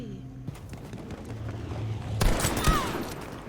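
Battlefield V in-game gunfire crackles in a rough burst near the end, with sharp loud shots over a busy, noisy battlefield backdrop.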